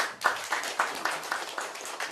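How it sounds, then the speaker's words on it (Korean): A workshop audience for nonprofit activists gives a short round of applause to welcome the next speaker, with moderately loud claps that come in distinct, rhythmic bursts over about two seconds in a room. "여러분 박수 맞아주세요."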